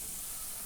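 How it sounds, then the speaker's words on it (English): Salisbury steak patties sizzle on a Weber Spirit gas grill, a close and steady broadband hiss with no one talking. "We're not going to cook them all the way through, because you can hear them sizzling,"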